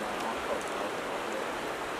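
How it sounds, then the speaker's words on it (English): Light rain starting to fall in the Wyoming backcountry, a soft, even patter and hiss that holds steady at low volume throughout, with no voices. "So right now the rain's starting to come."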